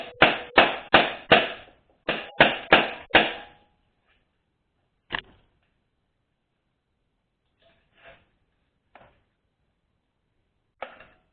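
Hammer tapping a retaining pin into a 4L60E transmission during a rebuild, two sharp quick bursts of four taps each, then a few isolated, fainter knocks spaced out in near silence.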